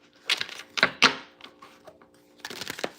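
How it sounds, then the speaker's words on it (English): A deck of slippery cards is shuffled in quick riffling bursts with soft taps between them, close and fairly quiet, with no talk. "I don't even like shuffling them because I don't want them to fucking wear out."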